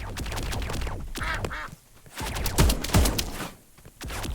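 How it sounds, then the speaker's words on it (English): Quacking ducks in the shooter game Escape From Duckov, a few close, loud quacks amid dense bursts of gunfire and rapid shooting. "I just heard a duck."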